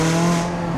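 Brief loud tire squeal as a McLaren 570S race car fitted with an AP Racing big brake kit brakes hard, a sustained tonal screech lasting under a second.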